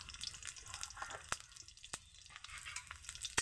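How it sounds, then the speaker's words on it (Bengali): Bay leaf, green and ripe chillies and cumin seeds frying in oil in a wok, a soft steady sizzle with occasional stirring scrapes and faint ticks, quiet and close, no voices. "নাড়িয়ে ছড়িয়ে ভেজে নেব।"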